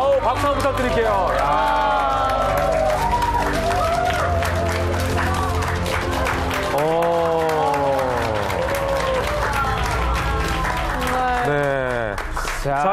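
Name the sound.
audience applause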